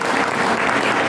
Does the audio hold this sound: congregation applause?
yes